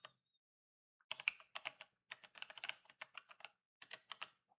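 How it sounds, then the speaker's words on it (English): Keys clatter on a computer keyboard as an email is typed, coming in quick irregular bursts with short pauses between them, close and moderately quiet. "Just type the email."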